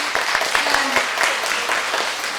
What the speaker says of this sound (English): please, a round of applause for Capabilities